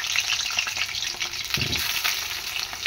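Ingredients poured slowly into hot oil, a continuous close, bright sizzle with a brief low splash partway through and no talking.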